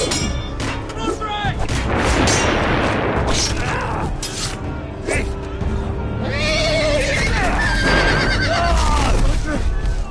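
Loud horse neighs and whinnies ring out over booming gunfire and a busy, dense backdrop, repeating several times.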